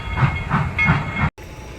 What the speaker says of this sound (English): as in the distance the train pulls away